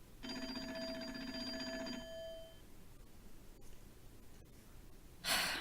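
A telephone rings once with a bright electronic tone for about two seconds in the Nancy Drew game The Secret of the Old Clock, followed by quiet room noise, faint clicks and a short burst of noise at the end.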